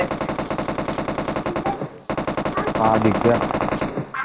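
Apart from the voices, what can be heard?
gunfire in a video game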